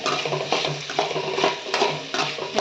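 Vegetables with salt sizzling in oil in a home pan, with scraping stirring and clinks of a utensil against the pot, close and alone.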